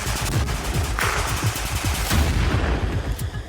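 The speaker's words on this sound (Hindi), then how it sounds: "Assault group will keep on firing." Assault group firing continuously during a military drill: dense, rapid bursts of automatic gunfire layered into a sustained loud rattle with booming reports, no pauses.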